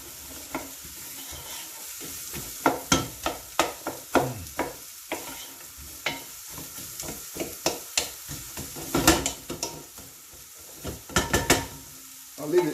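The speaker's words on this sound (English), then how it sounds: "Spices go in. I'm going to allow it to cook for a while." Spices frying in a pot for a sweet potato and vegetable sauce, a steady sizzle under repeated scraping stirs and light knocks of the spoon against the pot, fairly close and moderate in volume.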